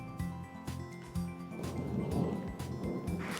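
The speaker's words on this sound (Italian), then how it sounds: "Intanto qui i temporali continuano. Se sentite qualche tuono, io faccio finta di niente." A thunderstorm rumbles in the distance outside a kitchen where pastry is being filled with cream: a low, soft roll of thunder swells gradually and lingers, faint and without any nearby voices.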